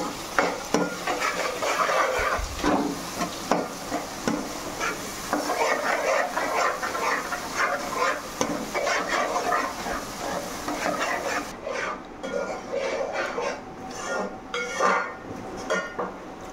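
Masala with a little dal, turmeric and cashews fries in a pan while a spoon stirs it, scraping and clinking against the metal in uneven strokes over a low, constant sizzle.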